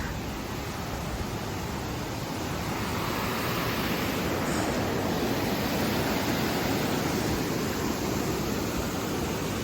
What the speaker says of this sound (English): So that right there is the big pretty waterfall